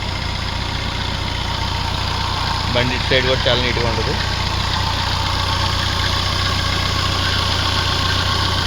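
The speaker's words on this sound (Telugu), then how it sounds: "ఇంజిన్ బీటింగ్ కూడా చూడొచ్చు మీరు." Engine of a 2013 Maruti Ertiga second-hand car idling with an even, constant hum while someone talks over it nearby.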